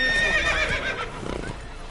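The horse Roach in The Witcher video game gives a loud, close whinny followed by a brief patter of galloping hooves, all within two seconds.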